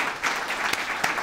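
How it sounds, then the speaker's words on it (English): An audience claps steadily through a short stretch at a small business program launch with a city mayor and a bank, moderately loud with a few sharper claps standing out. "A round of applause, please"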